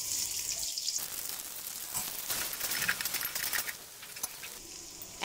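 Chopped onions hit hot mustard oil, mixed with leftover chicken-frying oil, in a pot for restaurant-style bhuna khichuri. A steady, close hiss of sizzling carries through with occasional stirring clatter, easing slightly near the end.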